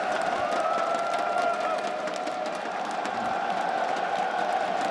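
A large esports arena crowd at a CS:GO major in Antwerp cheers and roars continuously, a dense wash of distant voices with a steady tonal hum running through it.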